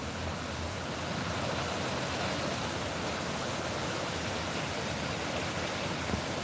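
Stream water flowing beside a forest trail near Johnson, Vermont, a steady soft rushing wash that stays even and fairly faint throughout, with no talking.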